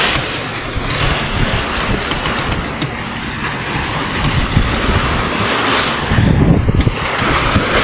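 Sea waves washing and splashing against the bow of a moving boat, a loud continuous rushing wash mixed with wind buffeting the microphone, with heavier surges near the end.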